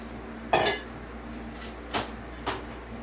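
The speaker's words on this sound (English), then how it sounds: "let's go over here and get some of these potatoes out of the pot" A spoon clanks against a pot while lifting out chunks of sweet potato. There are three distinct metallic knocks, one strong and two lighter, over a low steady hum.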